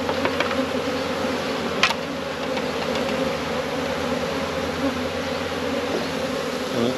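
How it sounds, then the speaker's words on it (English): Many bees buzzing around a beehive during New Zealand beekeeping work, a dense continuous hum close by with occasional louder individual bees darting past, no speech. "it's kind of lots of bees in here."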